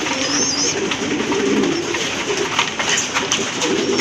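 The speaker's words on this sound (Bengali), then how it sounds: "আপনারা দেখতে পাচ্ছেন এক জোড়া মুখী কবুতর" A pair of top-quality Mukhi pigeons coo steadily and close by, their low, throaty calls running without pause, with a few faint chirps above them.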